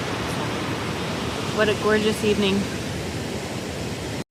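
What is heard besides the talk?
Kennedy Creek Falls waterfall, Emigrant Wilderness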